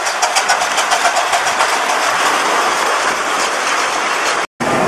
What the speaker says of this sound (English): mini steam train pulling into the station with Sara and Becca aboard.